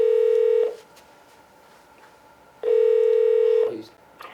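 A telephone emits two long steady dial or ringback tones, each lasting about a second, separated by a quiet gap, as a call is placed.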